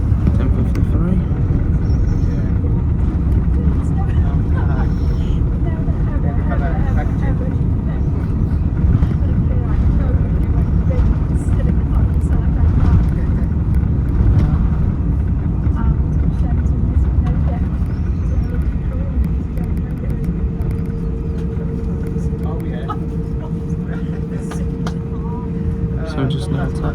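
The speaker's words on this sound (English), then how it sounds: "So just now taxiing over to Terminal 2." An airliner taxis to Terminal 2 at Manchester Airport, a steady, loud engine rumble and hum heard from inside the aircraft, continuous throughout with a faint tonal whine emerging near the end.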